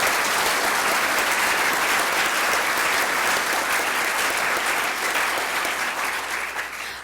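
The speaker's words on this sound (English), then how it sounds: "Give them a round of applause" Audience at the Maine Climate Council kickoff meeting applauding, a dense, steady wash of clapping that holds loud throughout and tapers slightly near the end, with no talking over it.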